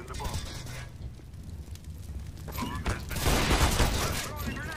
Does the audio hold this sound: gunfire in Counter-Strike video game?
yes